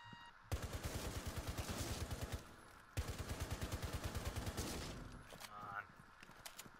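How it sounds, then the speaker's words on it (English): Rapid automatic gunfire downstairs in Rainbow Six Siege, two long sustained bursts of evenly spaced shots with a short pause between them, loud and steady, followed by a fainter tail. "He's shooting something up downstairs."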